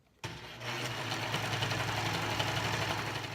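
Sewing machine stitching a tube of fabric, starting abruptly and running steadily with a fast, even mechanical whir and rhythmic needle chatter, close and without talk.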